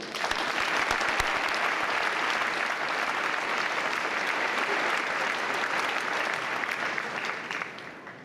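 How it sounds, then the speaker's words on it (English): A commencement crowd at a university ceremony applauds an alumni award recipient, a broad, sustained roar of clapping at moderate distance that stays even for about seven seconds, then begins to fade. "Again, another round of applause for Dr. Olson."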